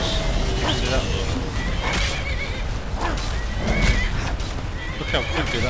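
A horse in Skyrim whinnies and neighs in repeated bursts amid clip-clopping hooves and game ambience, with a voice talking over it.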